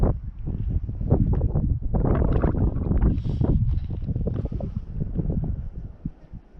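Strong wind gusts outdoors at a roadside stop on an Australian road trip, buffeting loudly and continuously with rumbling blasts and rustle, no speech.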